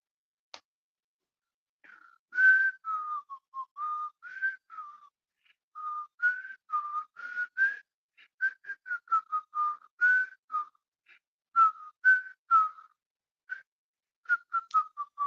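A person whistles the Jeopardy theme song, a clear solo melody of short, bright notes in a bouncy rhythm with brief pauses, close and alone against silence.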